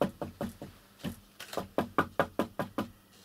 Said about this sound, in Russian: Кто-то стучит.